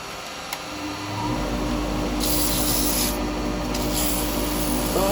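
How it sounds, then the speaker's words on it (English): Sandpaper rubbing against a turned wooden candlestick spinning on a woodturning lathe, giving a steady, close abrasive hiss over the motor's low hum that swells louder after the first second and holds fairly constant. "We get that quickly sanded."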